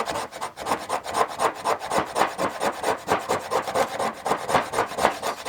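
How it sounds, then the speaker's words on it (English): The sharp spine of a knife scrapes natural fatwood in quick, regular strokes, a close, rasping rhythm of about four strokes per second, with no talk. "Give it a scrape with the sharp spine of your knife."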